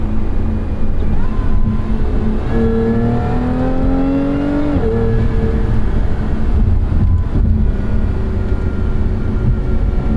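A 2023 Lotus Emira with a traditional torque-converter automatic accelerates hard, and its loud engine tone climbs steadily until one sharp upshift drops the pitch before it pulls on again.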